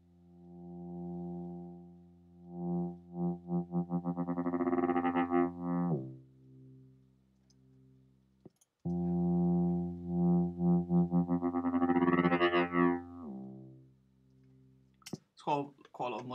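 Synthesized liquid dubstep bass with heavy LFO modulation and shifting oscillators, rising and falling in long swelling phrases with rhythmic wobble pulses, loud and alone, split by a short gap midway.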